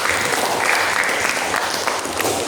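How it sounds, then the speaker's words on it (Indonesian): A classroom of students claps for a classmate during a biology teacher-training lesson, giving a brief, dense, even round of applause with no talking. "Silakan berikan tepuk tangan dulu untuk Pipin."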